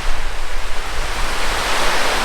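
Wind blows steadily and small waves wash on a lake in Mutawintji National Park, forming a loud, continuous broadband rush with no voices.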